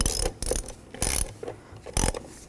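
A ratchet clicks in a few short bursts, close and fairly loud, as it tightens the fuse box fasteners on a 2009–2017 Chevy Traverse during an engine mount replacement.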